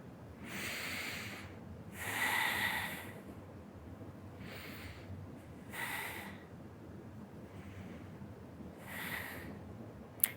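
Slow, audible yoga breathing in a gentle class during and after breast cancer, with airy inhales and exhales repeating every couple of seconds close to the mic over quiet room hiss.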